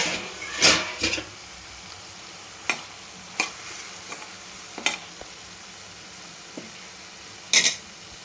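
A spatula stirs ridge gourd pieces in a frying pan with garlic tempering, making several separate, irregular scraping strokes over a faint, continuous sizzle.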